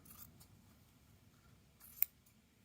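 Scissors cutting fabric in a sewing session: a few quiet snips, with one crisp, sharper closing snip near the end, close and otherwise near silent.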